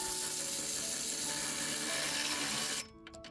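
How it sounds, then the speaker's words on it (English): Socket ratchet with a 10mm socket tightening a battery terminal bolt on a 2017–2025 Chrysler Pacifica, a dense continuous clicking that runs steadily close up for nearly three seconds, then stops abruptly into near silence. "we're gonna tighten it with a 10mm socket all the way down"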